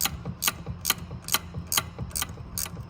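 A ratchet tightens a hose clamp on a 2001-2010 Duramax PCV reroute, giving about seven quick, sharp clicking bursts in a steady rhythm, close and alone.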